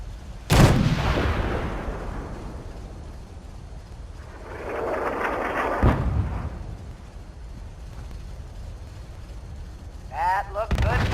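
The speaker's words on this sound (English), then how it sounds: "You've now got artillery support." Artillery explosions in the video game Fallout 4: a sharp blast near the start, another around six seconds and a later crackle, over a steady rumbling battlefield bed with a voice talking in places.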